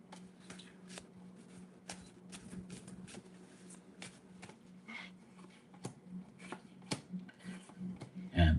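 Tarot cards shuffled during a live reading, a steady run of papery riffles and soft card slaps with a low steady hum underneath and a louder thump at the end.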